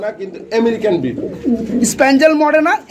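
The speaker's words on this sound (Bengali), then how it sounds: "এটা হচ্ছে নর কবুতর" A male pigeon coos close by, mixed with a person talking, the low coos and voice overlapping throughout.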